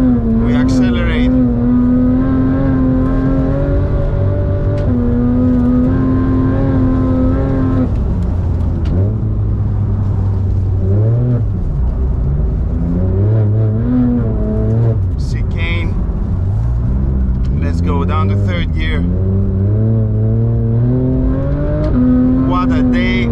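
A Porsche GT3 race car accelerates out of a slow right-hand corner at the Paul Ricard circuit, its engine loud and close, climbing steadily through the revs with clear gear shifts and brief breaks.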